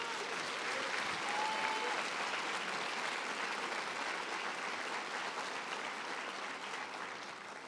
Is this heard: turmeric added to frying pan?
no